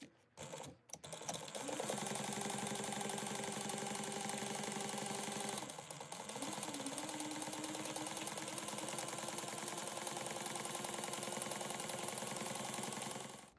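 A sewing machine topstitches a backpack flap at one-eighth inch in a loud, steady mechanical whir that runs almost unbroken, pausing briefly midway before resuming.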